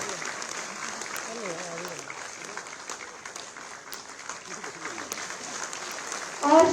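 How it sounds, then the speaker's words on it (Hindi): Audience applause at a ceremony inaugurating development projects in Lucknow: steady, sustained clapping from a crowd runs throughout, with a speaker talking over it and a louder swell at the very end. "जोरदार तालियां।"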